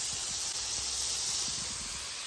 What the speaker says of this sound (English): all that is sweet potatoes and beef tallow right now. And just a touch of water to help for the steaming